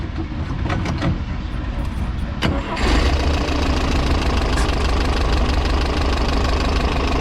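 A 1973 Steyr Puch Pinzgauer's air-cooled engine cranks briefly, catches with a loud burst, then settles into a steady, close, rough idle with a constant fan whir.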